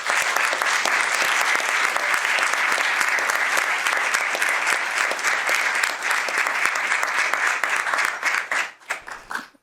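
A large audience at a Milpitas city event applauds the city fire department, a dense, steady wash of clapping that holds for most of the time before thinning into a few scattered claps and fading out.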